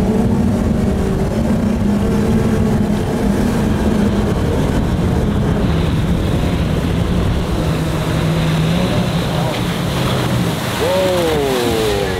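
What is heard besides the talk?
Brabus motorboat driving fast on water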